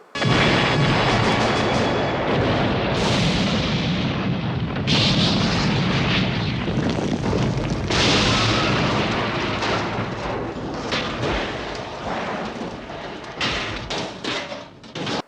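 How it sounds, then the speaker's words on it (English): A grenade thrown into a building in an action film goes off in a loud booming explosion, followed by a long rumbling roar of debris and crashing that fades into scattered thuds. "Instead, he grabs a grenade, throws it into the building that David Carradine slipped into"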